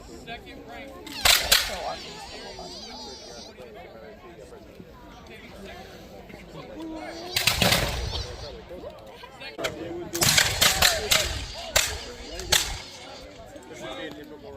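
Smoothbore musket shots crack out at a colonial reenactment battle between British and French forces, several sharp loud reports in irregular bursts with echoing tails, and people talk in the background.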